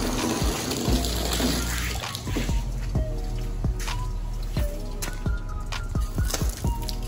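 Water is pushed around by hand in a Florida box turtle tub, giving close, loud sloshing and splashing with repeated dripping and squishing strokes.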